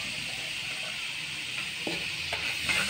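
Sugar caramelizing in a pan, a steady hiss and light sizzle with a few soft scraping stirs near the end, close and fairly quiet, with no talking.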